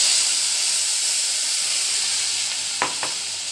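Poppy seeds roast in oil in a pan with a steady, even sizzling hiss and a couple of brief clicks of stirring toward the end.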